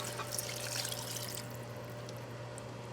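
Water poured into an Instant Pot for chicken soup, a soft steady splashing stream that fades away after about a second and a half, leaving a low hum and no talking.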